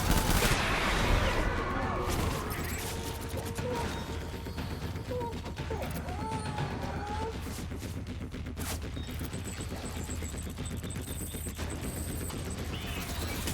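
Rapid, sustained gunfire rattles through a battle in the video game Death Stranding, dense volleys of shots and crashing impacts continuing for the whole stretch.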